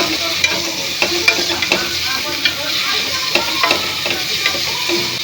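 Chopped onions sauté in a pan during village-style cooking for a vegetable biryani, a loud steady sizzle broken by sharp scraping and stirring clicks from a spoon, with no talk.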